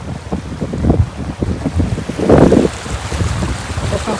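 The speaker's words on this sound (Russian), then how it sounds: "Уже ветер такой, как-то неприятно." Gusty wind buffets the microphone with low rumbling bursts, swelling louder midway and then easing, outdoors by a lake.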